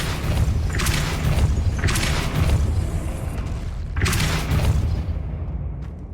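A Depulso spell cast in Hogwarts Legacy, heard as three booming, whooshing bursts over a dense, rumbling game soundscape, each blast loud and close, spaced roughly two seconds apart before the clip thins out.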